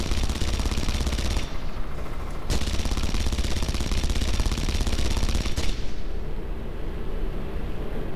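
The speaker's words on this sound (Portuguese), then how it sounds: "já vou começar a mandar bala nesse peão aqui na chegada" Sustained machine gun fire in the video game Red Faction Guerrilla, a loud, dense, continuous burst with brief gaps, filling the whole stretch and trailing off into a lingering rumble near the end.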